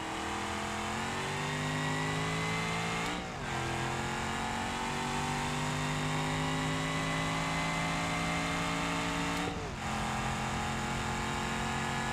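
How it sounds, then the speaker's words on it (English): A failing car engine in BeamNG.drive revs hard and steadily at close range, a strained harmonic drone rising slowly in pitch, cut by two brief drops around three and nine and a half seconds before climbing again. "engine's killing itself"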